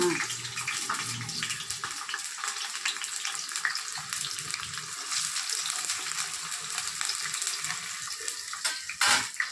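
Water runs from a tap while raw chicken is washed with turmeric, a steady splashing hiss with occasional louder splashes and clatter, close by and without talking.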